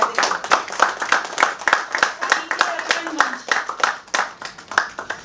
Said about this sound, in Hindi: तो बहुत तालियां हमारे मंच के लिए बजा दें